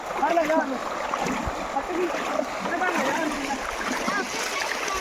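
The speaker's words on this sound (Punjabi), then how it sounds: "ਆ ਦੇਖੋ ਜੀ ਪਾਣੀ ਕਿੱਦਾਂ ਚੱਲ ਰਿਹਾ ਦੋਸਤੋ" Floodwater rushes past in a steady broad wash with splashing and gurgling, close and loud throughout, while someone talks over it.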